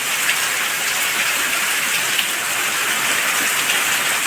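Heavy rain pours down steadily and continuously after days of downpour, a dense, even hiss of falling water with no gaps, close and loud, no voices.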